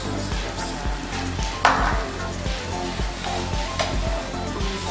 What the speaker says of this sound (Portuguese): E a gente vai fazer o processo de tostatura do grão.